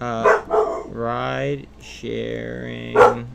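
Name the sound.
dog barking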